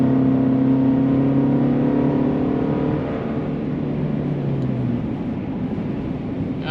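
A 2023 Chevy Colorado Trail Boss pickup with a 4-cylinder engine accelerates, its loud, steady engine drone holding for a few seconds before easing slightly and continuing alone.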